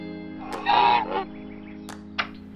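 A goose from The Simpsons: Tapped Out mobile game honks once loudly, with a few softer honks and a short blip after it, all over a steady electronic game hum.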